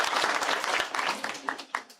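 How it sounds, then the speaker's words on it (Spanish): A church congregation at a Father's Day service gives a short, lively burst of applause that quickly tapers off. "denle un aplauso a Ruth"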